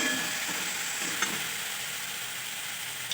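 Fried cauliflower being stirred into cooked masala in a pan, giving a steady soft sizzle with faint scraping, moderately quiet and close, without any talk.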